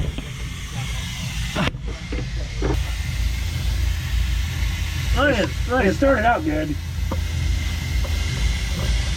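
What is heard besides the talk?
compressed air blowing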